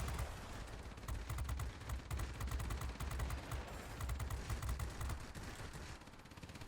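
Rapid automatic cannon fire from the forward gunner of a P-61 in World of Warplanes, a dense, steady stream of shots running the whole time over a low engine drone.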